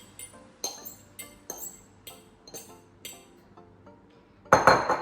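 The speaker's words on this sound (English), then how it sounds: "And then we're just going to mix that up" Utensil repeatedly clinking against a bowl while banana and egg mixture is stirred into oat muffin batter: a steady series of bright taps, close by, ending in a quicker flurry of clatter, with no voices.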